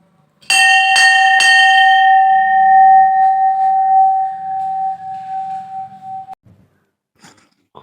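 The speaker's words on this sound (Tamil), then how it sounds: "கோயில் மணியை 3 டைம் அடிச்சிருவோம்." A temple bell is struck three times in quick succession, then its bright metallic tone rings on and slowly decays for several seconds before cutting off, with faint soft sounds afterward.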